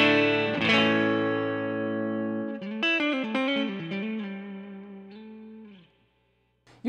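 Clean electric guitar through a Fender Blues Junior amp with reverb on and the effects pedal switched off: a sustained chord, then a run of picked single notes, each ringing with a reverb tail that fades into near silence.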